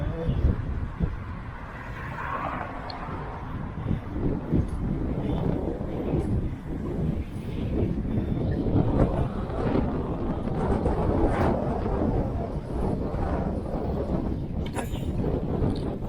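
Steady wind blowing across the microphone outdoors, a continuous low rumbling buffet with gusts rising and falling throughout.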